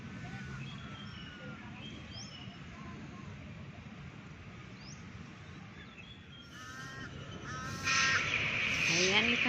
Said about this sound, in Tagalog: ito naman si Ibon. Naghihintay ng kanyang makain